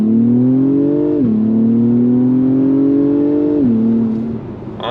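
A 2024 Acura TLX Type S at full throttle, its engine note rising steadily through the gears with two distinct shift dips, loud and close from inside the cabin, then easing off at the end.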